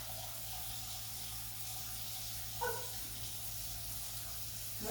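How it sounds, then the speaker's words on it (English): Tap water runs steadily into a pot in a kitchen sink, with soap added for soaking off sticky caramel; a constant, moderately close hiss of flowing water runs throughout, with a brief splash near the middle. "Fill this with water and soap"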